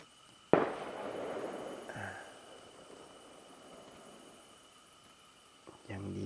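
Fireworks go off at a Chinese New Year celebration in a hill-tribe village at Pang Pu Lao, with a sharp loud bang followed by crackling bursts that fade, then more popping at the end, outdoors and at a distance.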